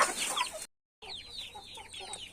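A rooster clucks in quick, close chirping bursts, broken by a brief moment of total silence before the clucking resumes.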